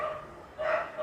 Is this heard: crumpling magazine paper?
no